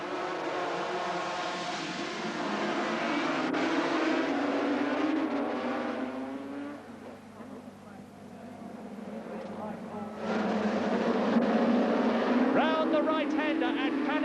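Racing motorcycles at Brands Hatch in 1979, a loud whining engine roar that dips briefly and then surges back, with someone talking over it.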